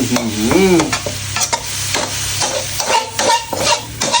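Food stir-fried in a pan, loud and close, with rhythmic scraping and clanging strokes over a continuous sizzle and no talking.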